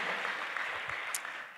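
Church congregation applauding, a short burst of dense, even clapping from a crowd in a worship hall, moderately loud with no talk over it.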